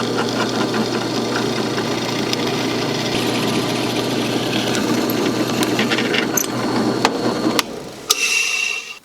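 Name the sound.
drilling through metal for workbench wheel lift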